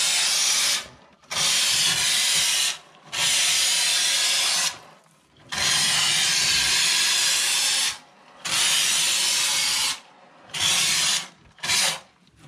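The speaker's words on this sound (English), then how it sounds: "I'm gonna spray foam under there" Spray foam insulation being applied from a Froth-Pak kit under a box sill in an unfinished basement area: repeated loud hissing bursts of several seconds each, separated by short pauses, close and with no talk.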